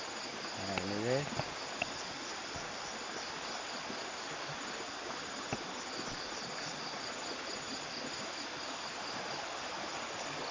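A river stream flowing steadily in the countryside, a constant broadband rush of water throughout, with faint insect chirping mixed in and a brief sound early on.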